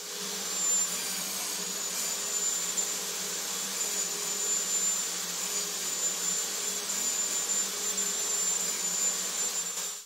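A power tool runs at a steady, continuous high-pitched whine while cutting a quarter-inch dado into a wooden table apron piece, holding a constant loud drone with no breaks from start to finish.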